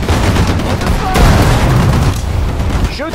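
Infantry gunfire in Sudden Strike 4 crackles in dense bursts, with booming shots and rapid rifle and machine-gun fire overlapping. Short voiced unit commands cut through near the end.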